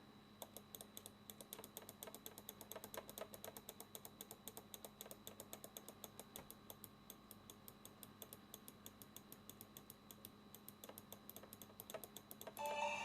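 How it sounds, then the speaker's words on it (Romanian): A computer mouse is clicked over and over during a Free Fire game, a long, fast, steady run of light clicks, close but faint, with no talking. "Dar eu tot apăs"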